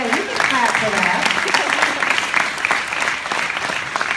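Audience applause fills a hall at a business talk, a dense steady roar of many clapping hands held at full strength for about four seconds while faint voices mix in underneath.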